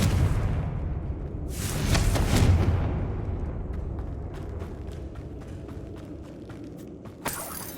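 A Confringo fire spell cast in Hogwarts Legacy, a rising whooshing burst that swells into a dull booming blast, then fades into scattered crackling pops and a final sharp snap.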